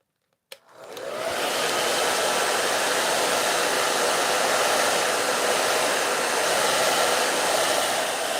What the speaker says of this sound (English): now I'm going to come back with the hair dryer and give it a little dry